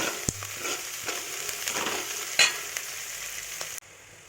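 Crushed ginger, garlic and pepper fry in hot oil in a pan with a continuous close sizzle, broken by a few scraping stirs, before cutting off abruptly.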